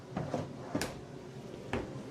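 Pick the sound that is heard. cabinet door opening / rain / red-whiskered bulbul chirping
cabinet door opening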